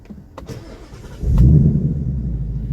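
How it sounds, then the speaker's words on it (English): A 2019 Ford Mustang Bullitt starts up: a few faint clicks, then the engine catches with a loud, deep rumble that settles into a steady, throaty idle close to the microphone. "We're gonna go ahead and start this thing up."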